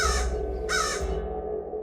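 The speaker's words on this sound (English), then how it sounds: "Sometimes an owl, sometimes a crow." A crow gives two loud, close caws in quick succession over a steady low rumble of background noise.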